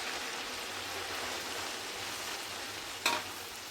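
Grated ginger sizzles and crackles in hot groundnut oil for tempering, a steady close frying hiss with a brief clink of a utensil near the end.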